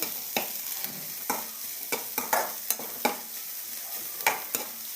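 Ginger and garlic paste fries in a pan for an Assamese fish curry, a close, steady sizzle broken by a regular rhythm of sharp spoon scrapes roughly every half second.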